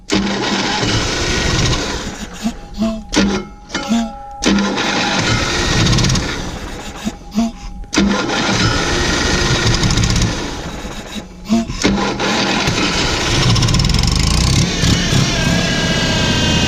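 The engine of a 1997 Pace Arrow Vision Class A motorhome cranks loudly and repeatedly, with several stops and restarts, before catching and running steadily at close range.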